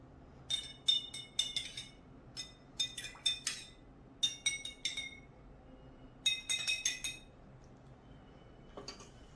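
Spoons clink against glasses of colored water being stirred, with four bursts of quick, bright metallic taps at close range and no talking.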